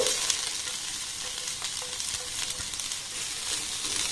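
Potato, vegetables and fried egg are stirred together in a hot pan with a little oil, a steady close sizzle with scraping and tossing sounds and no speech.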